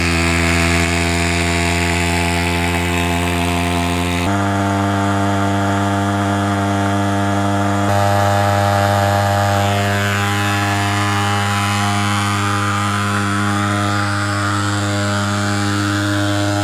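The engine of a fogging machine runs steadily at a pioneer camp, loud and close with a strong droning tone that shifts pitch slightly twice as the throttle changes, alone without voices.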